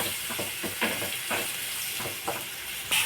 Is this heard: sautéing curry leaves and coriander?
yes